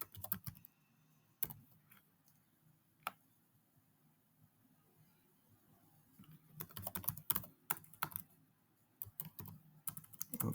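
JavaScript code is typed on a computer keyboard: a few sparse, separate keystrokes, then a denser run of quick, close clicking in a quiet room.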